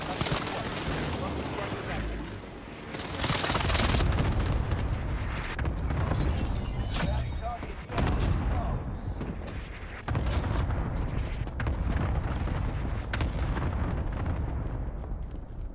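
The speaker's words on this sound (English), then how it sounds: "airstrike incoming" Airstrike explosions in Call of Duty: Warzone come as a heavy, rumbling barrage of booms and blasts, loud and sustained with repeated bursts. Voices speak through the bombardment.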